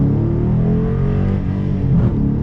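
A 2021 Dodge Challenger R/T accelerates hard at full throttle in second gear from about 3,500 rpm, its engine droning loudly and climbing steadily in pitch from inside the car.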